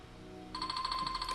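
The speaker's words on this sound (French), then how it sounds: "j'aurai une notification" A chat message notification chimes on a MikroTik hotspot system: a short bright electronic tone that sounds once partway through and rings on briefly over faint background hum.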